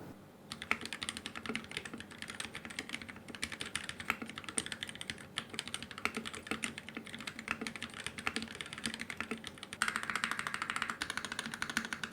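Typing on a Noir N1 v2 mechanical keyboard, a rapid, continuous stream of close, crisp key clacks with uneven rhythm, slightly louder and denser bursts near the end.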